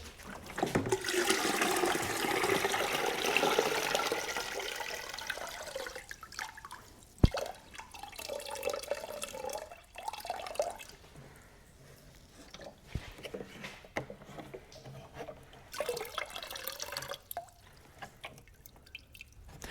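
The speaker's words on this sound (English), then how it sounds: "I dumped all the water out of here that I can" Water pours and drips out of a car headlight housing, a splashing gush at first that thins to scattered drips and trickles, close and fairly quiet.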